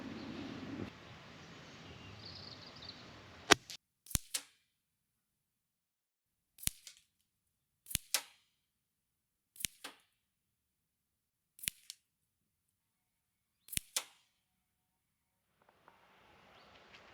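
A Titan Mohawk single-stroke pneumatic air rifle fires pellets at a target 30 metres away, giving six sharp, separate cracks spaced a second or two apart. Each crack is followed by a faint impact, and a quiet background hum comes before and after.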